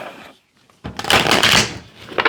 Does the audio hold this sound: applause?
no